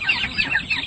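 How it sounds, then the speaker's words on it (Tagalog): Japanese Shamo chickens in a flock of around thirty black birds make a short run of close, fairly loud clucking calls with no talk over them. "ito yung mga lahi ng Japanese Shamo natin guys"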